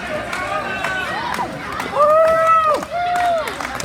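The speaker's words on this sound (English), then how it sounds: "The crowd is getting into it" Lucha libre wrestling crowd cheering for Misterioso, an excited arena of voices with rising shouts and chants, moderately loud and close, with hubbub and scattered clapping throughout.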